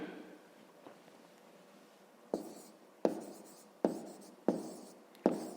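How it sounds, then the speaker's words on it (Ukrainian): A pen scratches across paper in a quiet room, starting with light faint strokes and then five sharper, evenly spaced bursts of writing, close and soft. "Записуємо тоді."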